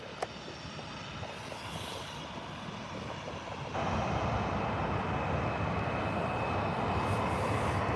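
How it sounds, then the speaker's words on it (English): A Ryanair Boeing 737 taxis at Birmingham airport, its engine roar steady and fairly distant, swelling louder halfway through and holding there with no talk. "Another Ryanair 737 heading out, guys."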